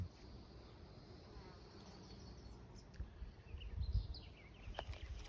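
Faint buzzing of bees hums outdoors in a vegetable garden, low and steady, with soft rustling and a few distant chirps.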